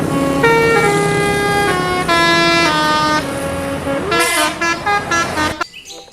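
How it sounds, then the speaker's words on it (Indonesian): Tourist bus telolet horn blaring a series of loud melodic multi-tone honks, with several rising and falling tune phrases over traffic noise, cutting off abruptly at the end. "ini ada bus pariwisata, bus telolet Basuri teman-teman"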